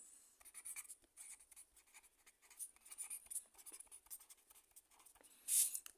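Pen or marker writing notes by hand gives off quick, close scratching strokes in short bursts with brief pauses, ending in a louder final stroke, in a quiet room with no talking.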